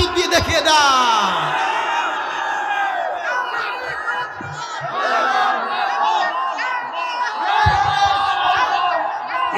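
A crowd of Muslim men at a religious gathering in Khulna roars the takbir in unison, a loud sustained chorus of shouting voices that swells, dips and rises again throughout, with no single speaker standing out.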